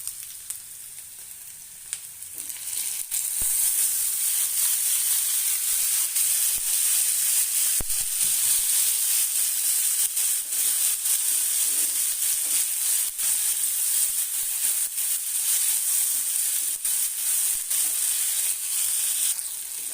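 Chopped tomato fries with onions and curry leaves in a pan for madake kalu palya, giving a loud, continuous, close sizzle that holds steady throughout with no talking.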